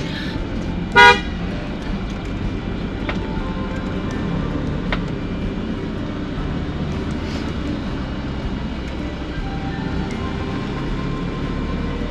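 A single short car horn toot sounds near the start from an Iveco 4x4 on a mountain road in Anatolia, Turkey, then steady engine and road rumble continues without further honks.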